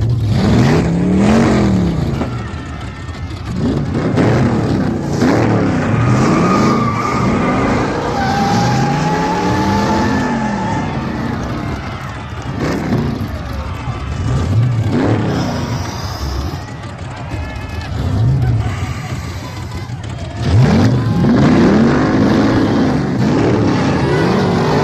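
A Ford Mustang and a Chevelle race off the start, their engines revving hard in repeated rising and falling sweeps, with tire squeal and skidding under a loud, busy mix.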